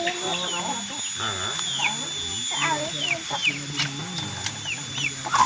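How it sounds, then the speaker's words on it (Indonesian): Chickens cluck and squawk in a repeated, busy chatter close by while being fed plain cooked rice at a rural home, with a person talking over them throughout. "Oh, tuh, pemirsa tuh, maraban hayam."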